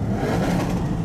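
Lamborghini engine on a London street, a brief throaty rev with a low rumbling tone, close and fairly loud.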